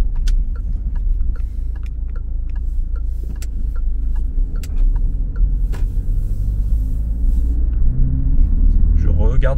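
A car engine rumbles low and steady through a driving lesson, its drone swelling slightly as the car picks up speed again, with a voice talking over it.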